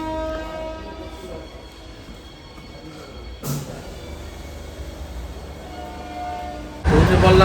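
A Kolkata local train rolls along with a steady, low rumble and a drawn-out horn. A sharp jolt comes midway, and a louder burst of noise swells near the end.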